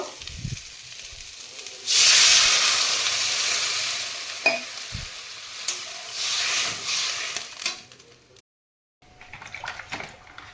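Water hits a hot pan of fried potatoes and Malabar spinach stalks with a sudden loud hiss that slowly fades, followed by clatters and quieter bubbling.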